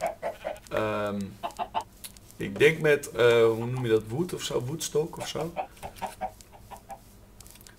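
Minecraft chickens cluck in short, repeated bursts, some loud and close, while a man chats in Dutch over and between them.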